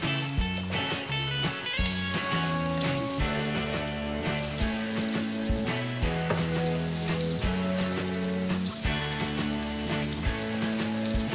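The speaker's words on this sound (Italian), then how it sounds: "E adesso andiamo a friggere quelli impanati." Steady, dense sizzling of breaded mushrooms frying in hot oil, loud and close, with bubbling crackle throughout and no voices.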